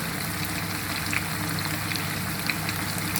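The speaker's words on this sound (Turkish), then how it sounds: "salçanın kokusu gidecek. Kavuruyorum arkadaşlar." Meat with tomato paste, hot pepper and garlic being sautéed in a pan, giving a steady, close crackling sizzle with scattered sharper pops throughout and no talking.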